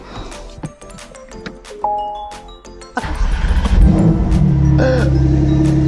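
A Porsche 911 Turbo S cabriolet starting up and revving, with light clicks and chimes first, then the engine catching and swelling into a loud, sustained rev that holds and settles into a strong idle.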